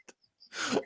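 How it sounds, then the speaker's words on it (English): A man with a cold gives a single short, rough cough up close, preceded by faint small clicks and near-silence. "I am sorry I caught you mid cough, my friend"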